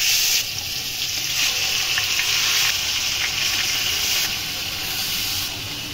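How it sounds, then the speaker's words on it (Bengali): Marinated biryani meat dropped into very hot oil and ghee in a wok, setting off a loud, continuous sizzling hiss that holds steady throughout with slight swells and no voices. "এখন যাবে কড়াইতে। এই যে তেল দিয়ে একদম গরম তেতে গেছে, তেল আর ঘি আছে এখানে।"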